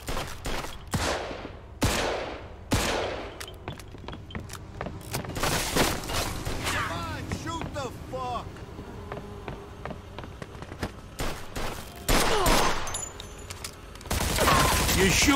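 Scattered gunshots and bursts of gunfire crack out during a shootout in Mafia II Definitive Edition, with sharp reports at irregular intervals amid game background noise and brief voices.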